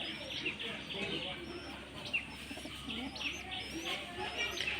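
Pigeons coo and call inside a small pigeon loft, soft repeated chirps and coos close by over a steady hiss of room noise.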